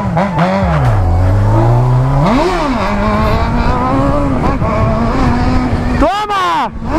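A Honda Hornet motorcycle ridden through a neighborhood, engine loud and close as it revs up and down in repeated surges through the gears, with a final sharp rising rev, while someone talks over it.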